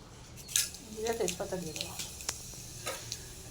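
Soft sizzling of cumin seeds and bay leaves frying in oil runs underneath, with a few clinks and scrapes and a person talking over it.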